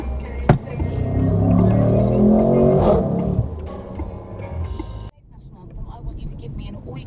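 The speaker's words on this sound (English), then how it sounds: "we've got somebody who likes a noisy exhaust" A car with a loud, noisy exhaust comes around a corner and roars steadily for several seconds before fading. It is heard from inside another vehicle, partly under talk, and ends in a quieter stretch.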